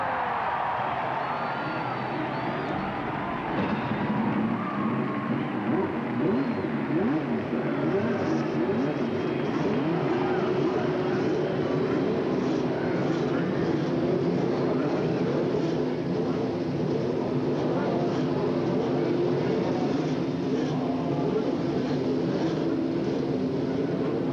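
Race car engines fire up together on the main stretch at Indianapolis before the 1988 Indianapolis 500, a steady, dense mechanical roar that fills the whole stretch without a break.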